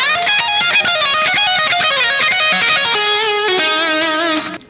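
A rapid lead guitar lick blends major scale fragments into pentatonic runs, played as a fast continuous stream of notes with some effects coloring, loud and steady before dropping away at the end.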